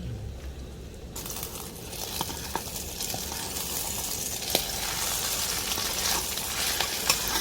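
Omelette with white clams frying in hot oil, a loud, dense crackling sizzle that swells suddenly after a quieter start and then holds steady with faint pops, with no talking.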